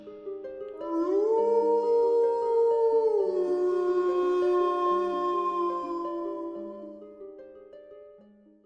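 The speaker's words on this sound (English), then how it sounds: "the largest of the wolves lifted its head and howled back" Wolves howl in long, clear rising-and-falling tones, one voice sliding and sustaining over others, loud and close before fading out slowly.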